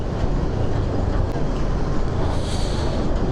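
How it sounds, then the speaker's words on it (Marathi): A long trailer truck rumbles past a scooter on a road between Mumbai and Konkan, giving a loud, steady broadband roar with heavy low-end drone and wind noise that holds for the whole stretch. "अशी लांब गाडी असेल ना ट्रेलर वगैरे"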